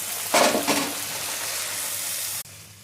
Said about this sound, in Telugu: ఇప్పుడైతే పూరి పొంగేసిస్తాం.